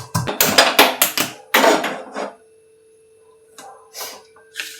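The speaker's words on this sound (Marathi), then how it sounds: "आपण लसूण ठेचून घेऊया" Garlic being crushed in a home kitchen, a rapid run of sharp pounding knocks followed by a pause and a few scattered later taps, close and fairly loud with no talking.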